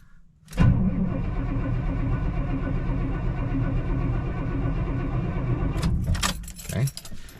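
A 1994 Chevy Silverado with an LS-swapped engine cranks briefly and fires on a cold start, settling into a steady, loud idle that runs for several seconds before a rattle of keys or handling noise near the end.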